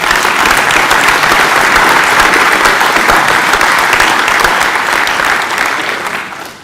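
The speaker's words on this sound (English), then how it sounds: "I think they should have a round of applause." An audience at the Sport Tynedale Sports Awards 2021 gives a loud, steady round of applause that carries on for several seconds before tapering off at the end, with no talk over it.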